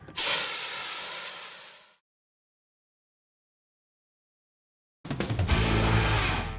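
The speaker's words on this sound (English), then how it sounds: "fire officials demonstrated the proper techniques for using portable fire extinguishers" A portable fire extinguisher is discharged during a fire officials' demonstration of proper use, letting out a loud, close hiss that fades after two seconds. After a silent pause, a second sputtering blast bursts out.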